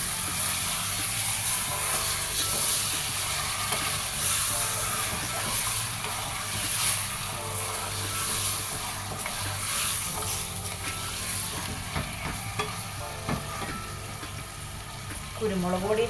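Chicken for Kashmiri yakhni pulao being stirred in a pot, with soft sizzling and scraping of the mix, continuous and close, under intermittent background talk.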